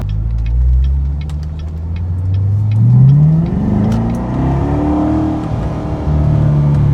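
A 2014 Chevy Corvette Stingray with a manual transmission accelerates hard, its engine climbing in pitch through successive gear changes, loud and close from inside the car.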